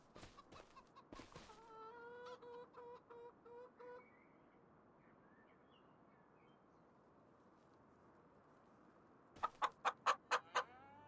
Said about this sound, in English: Hey, you're a baby chicken.